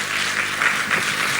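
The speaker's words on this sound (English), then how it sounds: "A round of applause for the Honorable Minister." Steady applause from an audience at an investment summit, greeting the Minister of Sports with continuous, dense clapping that holds at an even level throughout, with no voices above it.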